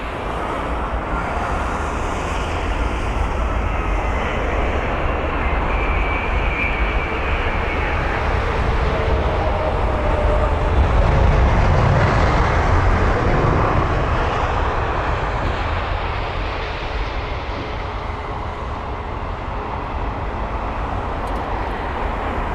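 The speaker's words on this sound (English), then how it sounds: "So yes, a delayed BA 7878 Dreamliner is our next arrival." A delayed British Airways Boeing 787 Dreamliner arrives at Heathrow from Islamabad, its engine roar loud and sustained, swelling to a peak midway as it passes and then easing off.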